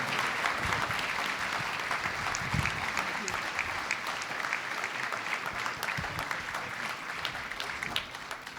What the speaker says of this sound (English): Ladies and gentlemen, a big round of applause for Secretary Jewell, Secretary Moniz.